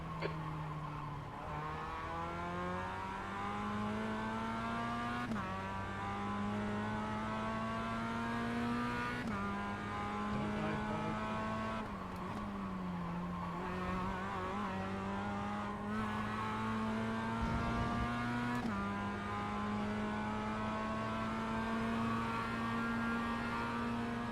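Race car engines in the iRacing video game on a final lap, a continuous loud engine drone rising in pitch through each gear and dropping at repeated shifts and braking points, with occasional tire squeal and no talking.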